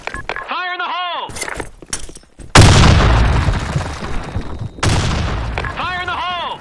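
Grenade explosions in the shooter Broken City, two loud sudden blasts in a row, each trailing off into a long crackling rumble, with voices heard between them.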